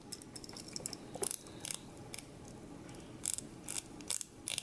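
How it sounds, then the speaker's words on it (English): Bezel on a Seiko 6309-7049 dive watch turned by hand, giving sharp, close ratcheting clicks in short irregular bursts over a quiet background, with no talking. "Bezel rotates nicely."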